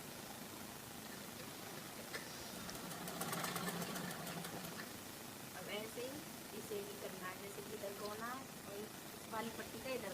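A sewing machine stitching a blouse strip, its fast mechanical chatter running in short bursts against a steady hum, with someone speaking over parts of it.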